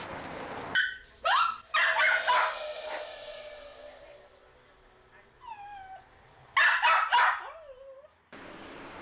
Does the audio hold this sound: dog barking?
yes